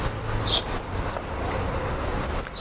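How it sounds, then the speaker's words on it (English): A traffic police car drives along a street in Kusadasi, Turkey, amid steady low road noise with no clear pass-by peak and no talking. "Look, traffic police car"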